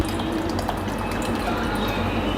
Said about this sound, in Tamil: இன்னும் கொஞ்சம் நம்ம தண்ணி சேர்த்துக்கலாம்